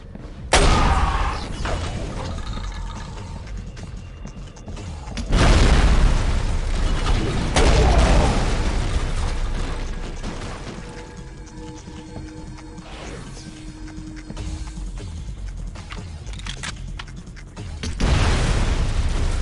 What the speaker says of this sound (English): Everyone's throwing grenades at you and you don't even notice them.